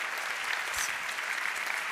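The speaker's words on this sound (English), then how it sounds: "let's do a round of applause for this" Audience applause at an opening session, a steady dense wash of many hands clapping at even loudness throughout, with no voices standing out.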